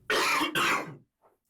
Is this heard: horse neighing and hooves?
no